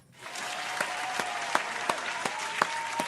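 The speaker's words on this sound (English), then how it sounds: "Charleston White get a round of applause" A round of applause from a small group swells in after a quiet start. Steady clapping holds, with a few sharper, louder claps standing out near the middle.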